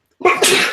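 A single close, sharp sneeze during a live broadcast breaking down a Game of Thrones Season 7 trailer, bursting out abruptly after a moment of silence.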